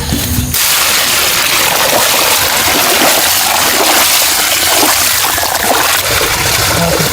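Water being poured outdoors during a large chicken leg cooking session, a loud, continuous splashing and gushing stream that starts abruptly and runs steadily throughout.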